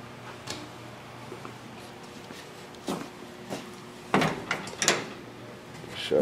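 A project car's door swings shut in a workshop, its fender not yet bolted at the bottom, giving a few separate thuds and latch clicks at moderate loudness against a quiet background.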